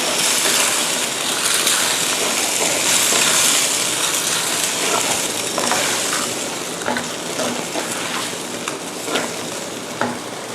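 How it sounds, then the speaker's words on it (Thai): Shrimp, pineapple and vegetables stir-fry in a hot pan, giving a steady close sizzle with scraping and clinking of a spatula throughout, no voices heard. "และก็ผักต่างๆนะคะ ที่เราเตรียมไว้ช่วงแรกค่ะ ผัดให้เข้ากันนะคะ"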